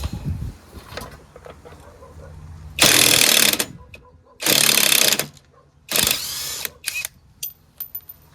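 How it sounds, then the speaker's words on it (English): A half-inch impact wrench works on a Troy-Bilt Storm 3090 two-stage snowblower, firing three loud hammering bursts of about a second each with short quiet gaps, then a few brief taps. "Half-inch impact."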